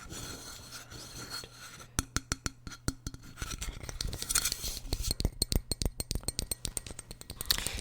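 A styled metal bottle is handled up close, with soft rubbing and gripping scrapes giving way to quick, sharp clicks and taps in an uneven rapid rhythm, quiet and intimate with no talking.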